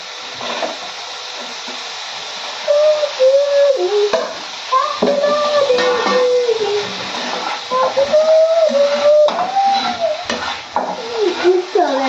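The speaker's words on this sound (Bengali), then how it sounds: "পনিরটা একটু গোল্ডেন কালার নিয়ে নেয়। একটু ভাজবো।" Cubed paneer fries in oil in a home kitchen pan, a steady sizzle with stirring and scraping of a utensil against the pan, plus a squeaky tonal scrape, close and fairly loud.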